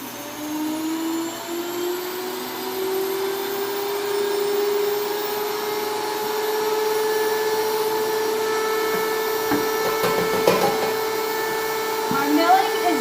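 A grain mill grinding wheat for homemade bread, a loud, steady motorized whine with a rising pitch that drones on continuously, with a few rattling clicks near the end.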